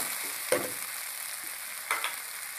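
Green chilies frying in a pan with ginger and garlic give a steady, faint sizzle, with a couple of brief louder stirring scrapes and no talking.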